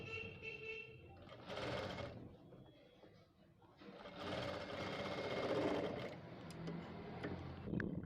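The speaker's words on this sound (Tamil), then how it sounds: "இப்போ ஒரு 1/4 இன்ச்சுக்கு பக்கத்துலேயே ஒரு ஸ்டிச்சஸ் போடணும்." A sewing machine stitching lining fabric for blouse piping runs in two short bursts of rapid mechanical whirring and ticking, close and moderately loud, separated by quiet pauses with light handling noise.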